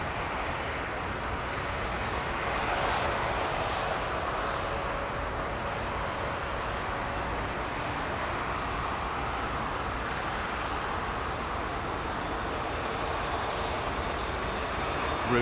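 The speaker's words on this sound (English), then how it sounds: "So watch for the prop as they apply the thrust levers." Propeller airliner applying takeoff thrust at London Heathrow, a steady loud broadband engine roar that holds evenly throughout, heard from a distance with no talking.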